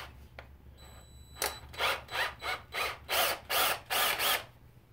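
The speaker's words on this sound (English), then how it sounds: "I'm going to try and tap some handle pinholes real fast" A power drill bores and taps handle pin holes in a hunting knife blade, running in about eight short, loud, evenly spaced bursts close by, with a low steady hum underneath.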